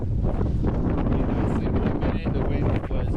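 Strong wind batters a freezing mountain camp in the Eastern Sierra near Mt Whitney, roaring and buffeting the microphone continuously with gusty rumble and rustling flaps.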